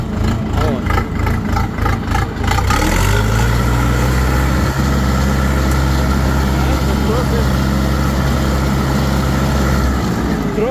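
A 50 hp DTZ tractor engine runs steadily while driving, with a low rumbling drone throughout, with some rattling at the start, close and fairly loud.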